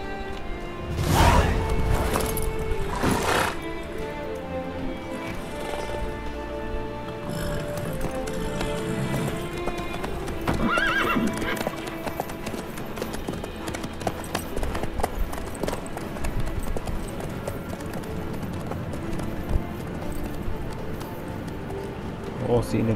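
Horse hooves clip-clop steadily in The Witcher 3 video game, a close rhythmic trot running under character dialogue and background game music throughout.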